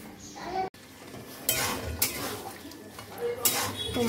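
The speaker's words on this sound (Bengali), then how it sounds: "টমাটোর মধ্যে রান্না চলছে" Meat cooking in a tomato base in a pot, with the clatter of utensils stirring against the pot over a low sizzle and several sharper scraping knocks.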